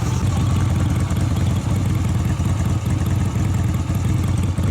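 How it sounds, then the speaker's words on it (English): A Yamaha Virago 250 motorcycle with loose baffles in one exhaust runs close by, its engine chugging in a steady loud throb with a rough, clattering rattle woven through it. "I can hear there's some loose, obviously loose baffles in one of the exhausts"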